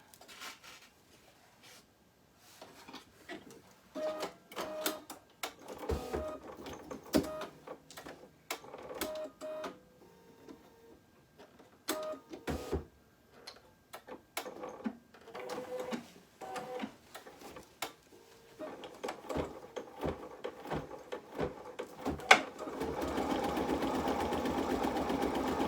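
An embroidery machine stitches green decorative stitches onto a pink egg design, running in rapid mechanical bursts with pauses between runs, then a steadier continuous whir near the end.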